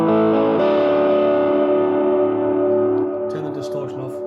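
An electric guitar plays a sustained, heavily distorted chord through an Electro-Harmonix Canyon delay and looper pedal, ringing loudly with a thick buzzing tone that slowly decays while faint trailing echoes appear at the end.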